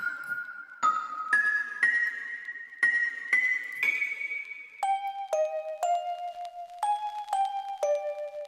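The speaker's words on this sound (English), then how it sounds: "for the bells category, you get a bit of record crackle for that added texture." Bell instrument preset from the Oracle 2.0 VST plays a sequence of struck, ringing tones that step lower partway through, each note decaying with a shimmering tail over a faint layer of vinyl record crackle.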